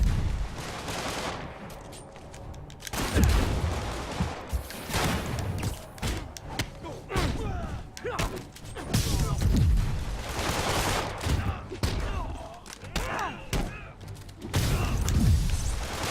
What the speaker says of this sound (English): Shoot him down!